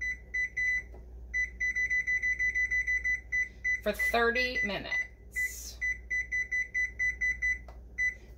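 A kitchen timer beeps repeatedly while it is being set to 30 minutes for a yarn-dyeing session. The steady, evenly spaced high beeps run on and off, with someone speaking briefly in the middle.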